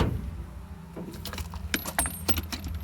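Snap-on 3/8-inch chrome socket rails being twisted to unlock and lock, giving a series of sharp metallic clicks and rattles, close and moderately loud, with no talking.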